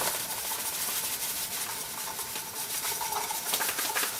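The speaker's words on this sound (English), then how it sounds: "now we are going to slowly whisk in the corn flour" Corn flour being whisked slowly into a pot of salted water for mamaliga, a continuous brisk metallic scraping and swishing, fairly loud and close, without any voices.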